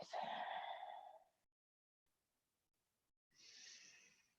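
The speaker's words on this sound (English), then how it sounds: "And breathe." Deep breathing in a yoga pose, a long, loud, breathy exhale close up, a pause of near silence, then another softer airy breath.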